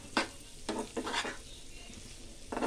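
Homemade pasta stirred and mixed in a hot pan, several sharp scraping strokes of a spoon against the pan over a low sizzle, close and alone.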